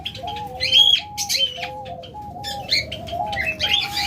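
Caged albino pet birds kept in pairs chirp and call close by, with overlapping tweets, repeated tonal calls and occasional wing flutters.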